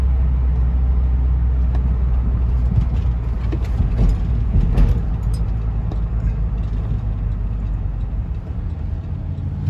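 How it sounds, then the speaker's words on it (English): A loud truck rumbles past a van driving to a fast-food drive-thru, its heavy low engine roar building and swelling close by before easing off, with no talk over it. "That was a loud truck."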